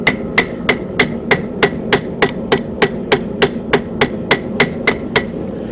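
Steady hammer blows ring on hot metal being forged, squared and then knocked in at the corners toward an eight-sided octagon, about three sharp metallic strikes per second in an even rhythm, loud and close with no voices.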